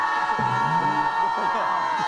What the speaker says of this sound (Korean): 전방을 향해 함성 10초간 발사.